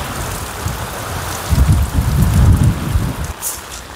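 Heavy rain driven by strong wind during a storm in a village setting gives a continuous hiss of downpour, with deeper gusty rumbles swelling through the middle; no talking is heard.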